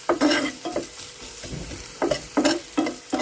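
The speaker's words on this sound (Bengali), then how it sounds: "তো ডিমটা ভাজছে" An egg fries in a pan as a spatula stirs it, giving a close sizzle broken by quick scraping strokes in short bursts.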